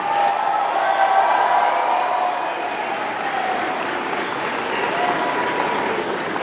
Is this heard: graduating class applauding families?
yes